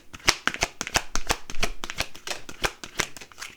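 A deck of playing cards is shuffled close up, a quick run of crisp riffling snaps and flutters in an irregular rhythm lasting several seconds.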